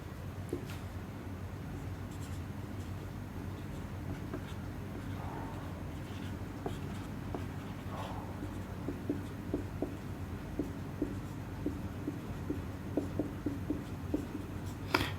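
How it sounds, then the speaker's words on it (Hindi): Marker or chalk writing on a board during a chemistry class, faint scratchy strokes that grow busier and more rhythmic toward the end, heard over a quiet room hum with no talking. "ला मैं लिख ही देता हूं इसे"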